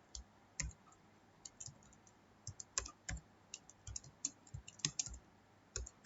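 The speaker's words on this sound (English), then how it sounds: "Now we'll type the program." Keys clatter on a computer keyboard as HTML code for an anchor tag is typed into Notepad, with quick irregular bursts of close, crisp clicks separated by short pauses, and no talking.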